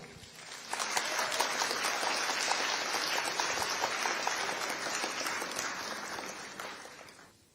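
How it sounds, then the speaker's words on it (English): Applause fills a government security trust fund launch in Delta State as a former Chief of Defense Staff is welcomed, a dense, sustained crowd clapping that swells quickly and holds steady before tapering off. "for the biggest applause of the afternoon, let us welcome the former Chief of Defense Staff, General Lucky Irabo"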